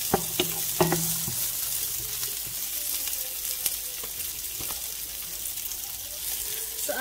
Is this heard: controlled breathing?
no